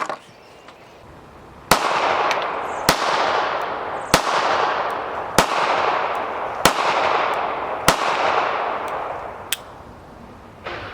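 Browning Model 1910 pistol firing .380 ACP at an outdoor range, seven sharp, loud shots spaced about a second or more apart, each followed by a ringing decay, over steady background noise.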